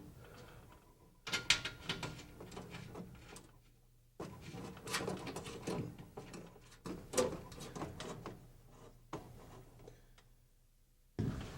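Nuts and lock washers being tightened with a ratchet onto battery box bolts while installing air conditioning in a classic car, heard as several separate bursts of fast clicking and metallic rattling with short quiet gaps between them.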